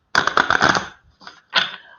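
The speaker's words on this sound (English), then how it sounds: "let me shuffle these cards" Tarot cards shuffled by hand during a live psychic reading, giving a dense burst of riffling and slapping followed by two shorter shuffles after a brief pause, close and fairly loud with no talk.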